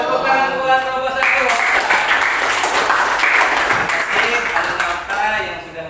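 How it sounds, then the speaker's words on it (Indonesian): Classroom applause for a student group, a burst of clapping lasting several seconds under the murmur of pupils' voices before fading out. "Tepuk tangan buat kelompok 1."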